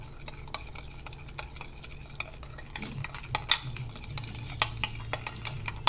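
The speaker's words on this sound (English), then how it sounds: "And then I've got to stir it up." Yeast being stirred into water in a small container, with light, quick clicks and taps of the utensil against the sides over a quiet background hum.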